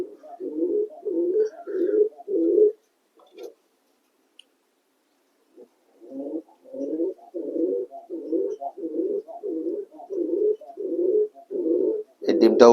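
English Magpie pigeons cooing in a loft, a steady run of low, rounded coos in close succession, pausing briefly midway before resuming in an even rhythm, with a sharper call near the end.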